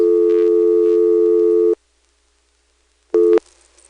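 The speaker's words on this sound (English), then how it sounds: "when the dial comes back to rest, you do hear a burst of dial tone" A steady dial tone from a GTE/Leich CXP-5 telephone exchange hums loudly for under two seconds, cuts to silence, then a brief second burst sounds as a rotary dial returns to rest.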